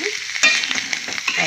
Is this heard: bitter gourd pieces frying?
yes